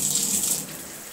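Water sprays from a propeller shower head in a bathroom with a close, bright hiss that drops slightly in level partway through. No one speaks.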